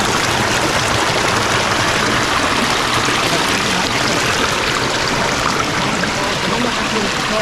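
Steady, loud rush of a waterfall and stream flowing on a rural property with several cascades, a continuous broadband wash of water with no pauses and no voices.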